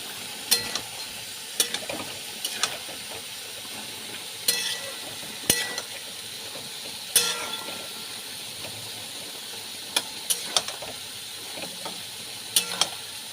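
Shrimp sizzling and being stirred in a pan of pointed gourd and boiled potato curry, a steady frying hiss broken by repeated sharp scrapes and clanks of the spoon against the pan.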